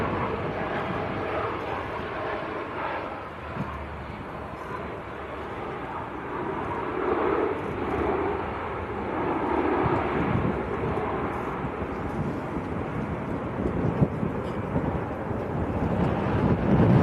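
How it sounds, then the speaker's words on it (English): An EasyJet Airbus A320 arriving from Faro at Manchester Airport gives a steady, broad jet roar that slowly builds in loudness, heard from a distance and mixed with wind buffeting the microphone. "EasyJet from Faro down in Portugal. Airbus A320."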